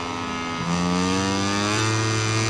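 A Moto3 racing motorcycle engine in the video game MotoGP 21 screams loudly as it accelerates, its pitch climbing steadily through a gear change with no voices.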